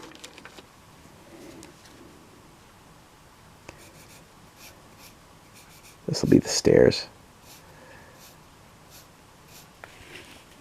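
A sharpened pencil scratches on paper while plotting stairs for an Advanced Heroquest board layout, faint strokes under a speaking voice, with a louder scribbling burst midway.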